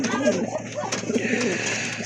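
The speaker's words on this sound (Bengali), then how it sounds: "দুইটা কবুতর আছে এখানে" Pigeons at a bird market give soft low coos close by, mixed with steady background chatter and someone talking over them.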